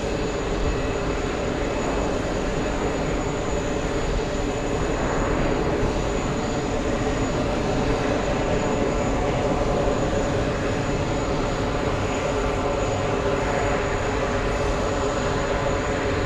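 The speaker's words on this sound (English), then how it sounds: "It's the plane that sounds like a train for some reason." A jet airliner at JFK during plane spotting, its engine roar rumbling like a passing train, loud and steady throughout with no talk.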